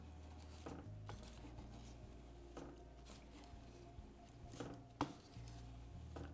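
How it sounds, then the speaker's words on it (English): A knife scrapes across a block of bittersweet dark chocolate to make shavings, giving soft, quiet rasping strokes in an irregular rhythm with a few light taps against a low steady hum. "take a knife and just rub it on the chocolate towards you"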